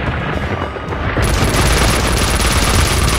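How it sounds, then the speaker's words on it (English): Dense, loud gunfire in a video game shooter, a continuous barrage of rapid shots and booms that swells after the first second and stays close and heavy. "Where are you shooting at?"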